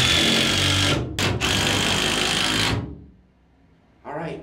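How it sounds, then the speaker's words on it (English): A power drill whirs steadily in bursts driving a screw into wood, briefly stopping and restarting, then winds down to quiet before a short final spin. "we're going to drill it in"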